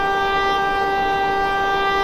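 Vande Bharat Express horn sounding in Train Simulator Classic, a steady, loud sustained tone with rich stacked harmonics, held unbroken for the whole stretch over a low rumble of the train.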